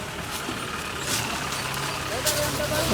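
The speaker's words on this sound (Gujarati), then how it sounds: "મિત્રો એમ્બ્યુલન્સ આવી ગયું છે" An ambulance engine idles with a steady low rumble close by in a farm field, while people talk over it.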